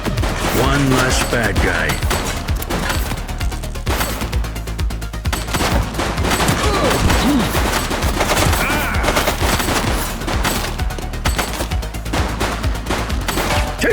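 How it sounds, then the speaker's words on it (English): Sustained gunfire from a police shootout in the video game The Precinct: rapid, dense volleys of shots crackle continuously and loudly, with a brief spoken line over the barrage. "He's running! He's shooting!"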